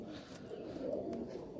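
Madrasi pigeons cooing inside an old loft in Uluberia, a soft, low, continuous burbling coo that stays faint and steady throughout, with no talk.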